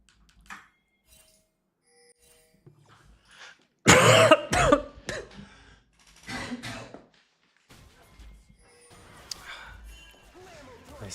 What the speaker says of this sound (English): Nice healthy sounding cough